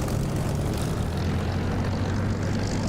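Supermarine Spitfire piston engine in the DCS flight simulator, a steady loud propeller drone with a low rumbling hum held throughout, no voices.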